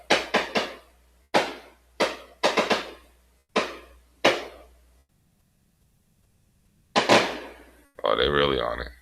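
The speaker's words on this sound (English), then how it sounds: "If you hear that in the background, somebody doing fireworks" Fireworks go off in the background as a series of sharp, echoing bangs, some in quick pairs, with a short gap before another pop and a brief voice at the end.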